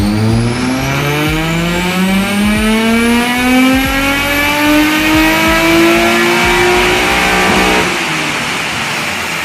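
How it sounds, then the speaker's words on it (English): A rare supercharged V6 in a Mazda MX-6 revs up loudly and close by, its pitch climbing steadily in one long pull before easing off near the end, with no voices over it. "in some rare occasions they had V6 supercharged, which sounded absolutely gorgeous"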